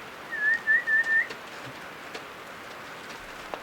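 A person whistles toward a big grizzly bear in the wilderness: a short run of four clear, rising-falling whistle notes, fairly soft, followed by quiet outdoor ambience.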